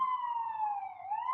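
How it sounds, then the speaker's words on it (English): A single emergency-vehicle siren wails outside on a city street, one long smooth tone sliding slowly downward and then starting to rise again, loud and steady with no other sounds. "there's been exceptionally loud sirens for a really long time"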